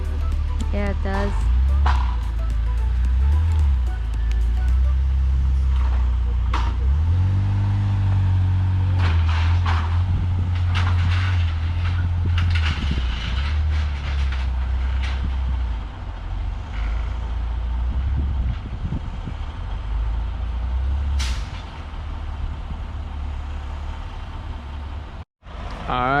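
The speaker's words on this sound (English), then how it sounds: "It's a big truck." A big truck hauls away a 2008 Saab 9-3 TurboX, its loud steady engine rumble running throughout with hints of air brake hiss and reversing beeps, while people talk nearby.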